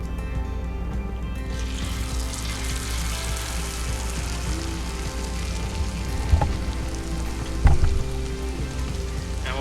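Vegan chili garlic chicken pieces (kkanpunggi) go into frying oil heated to 350 degrees, giving a steady loud sizzle and crackle with two brief bursts near the end as more pieces drop in.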